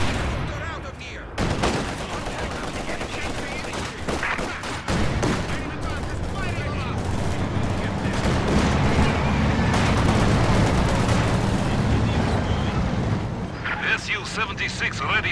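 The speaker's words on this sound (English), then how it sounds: "Mortar, mortar. We have incoming!" Sustained battle noise in Company of Heroes 2, with mortar impacts and steady gunfire rumbling densely throughout, the shooting crackling and booming at mid distance under frequent spoken unit callouts.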